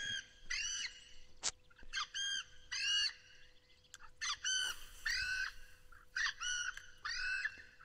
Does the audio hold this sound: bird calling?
yes